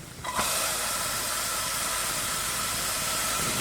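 Garlic and onion hit hot oil in a preheated 3-quart saucepan, bursting into a sudden loud hiss that settles into a steady, even sizzle lasting several seconds, close and without talk.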